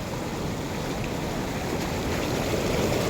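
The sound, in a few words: strong water flowing at a dam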